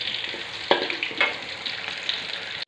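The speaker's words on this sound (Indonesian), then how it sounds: "Sekarang saya goreng tempenya dulu" Steady oil sizzling and crackling as tempeh fries in a pan, with occasional louder pops and spatters, continuous throughout.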